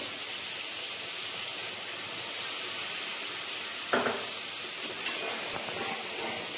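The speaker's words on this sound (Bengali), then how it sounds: "মশলাটি ভালোভাবে কষিয়ে নেওয়ার পরে অল্প অল্প নারকেলের দুধ দিয়েও আমি একটু কষিয়ে নেব।" Spiced masala for prawn malai curry sautéing in a pan with coconut milk, a steady close sizzle and hiss with a few soft stirring scrapes near the end.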